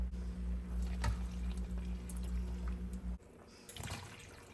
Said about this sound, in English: we're going to fill this can up with water 2 times and pour that in here